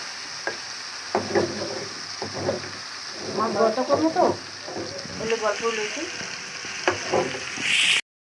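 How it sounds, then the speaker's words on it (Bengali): Fresh tilapia fish sizzling as it goes into hot oil in a home kitchen, a steady crackling fry with bursts of spitting and popping, with faint talk in the background. "তেল গরম হয়ে গেছে মাছ দিয়ে দিই তেলাপিয়া মাছ"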